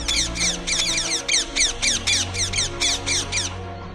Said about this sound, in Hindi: आसपास से तोता का झुंड भी डर से उड़ जाता है।